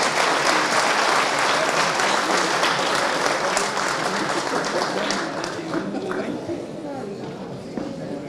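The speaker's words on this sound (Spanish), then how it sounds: "Recibámoslo con un aplauso" A seminar audience at an international economics event gives a welcome round of applause for an economist speaker: dense, steady clapping from many hands that stays loud and then eases slightly toward the end.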